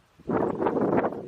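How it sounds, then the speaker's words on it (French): Outdoor wind buffets a microphone in a steady, loud rumbling gust lasting just over a second, with no voices present. "J'espère que vous n'avez pas été embêté par le vent par contre."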